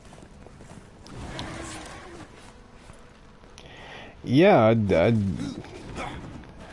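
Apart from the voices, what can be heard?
horse hooves clip-clopping in video game Darksiders II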